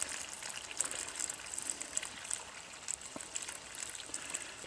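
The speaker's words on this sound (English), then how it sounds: "So I'll put some more water in here." Water from a container pours into a small soil infiltration test hole, a faint uneven trickle and splash that runs steadily for several seconds with no voices over it.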